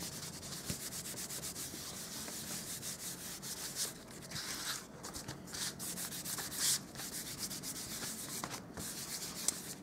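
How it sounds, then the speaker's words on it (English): An embossing buddy rubs back and forth over a sheet of cardstock, giving a close, continuous papery swishing with steady strokes and brief pauses. "I'm just going to rub my embossing buddy over the top of the entire piece of"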